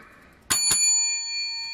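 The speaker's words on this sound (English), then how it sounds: "Haven't been hearing the bell much on this little run" Two quick bright bell dings ring out in a scratch-ticket game, the metallic tone lingering and slowly fading in an otherwise quiet moment.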